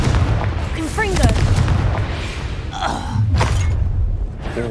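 Booming blasts from the Confringo explosion spell in Hogwarts Legacy land amid chaotic game combat, with a voice shouting over the dense, loud effects.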